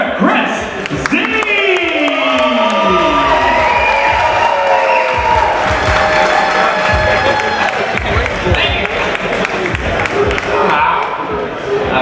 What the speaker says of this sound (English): I want everybody in the organ garden to make a big round of applause for Mr. Chris Z.